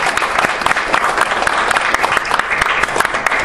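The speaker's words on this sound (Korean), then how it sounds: "뜨거운 박수입니다." Warm applause from a forum audience welcoming a retired general, loud and close, with dense continuous clapping sustained throughout and no speech on top.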